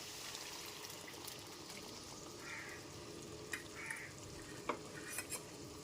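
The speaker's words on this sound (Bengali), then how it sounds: "এরপর এর মধ্যে ভিজিয়ে রাখা মুগ ডালটাকে দিয়ে দিচ্ছি" Soaked moong dal going into a pan of frying masala and stirred through, a steady low hiss and crackle of frying with a few soft scrapes and bumps of the spoon near the end.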